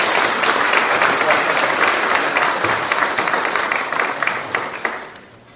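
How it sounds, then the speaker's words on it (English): An audience applauds award winners at a CXC examinations awards ceremony in Trinidad and Tobago, a dense, sustained round of clapping from a large crowd that thins and fades toward the end, with a voice faintly over it. "Let's give them a wonderful round of applause."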